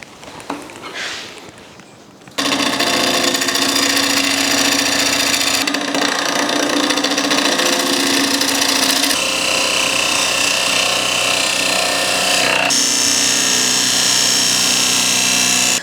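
A wooden platter spins on a lathe as a 3/8 bowl gouge with a short grind cuts it, producing a loud continuous whirring hum and scraping roar. The pitch shifts in several stages as the cut changes, following a quieter start.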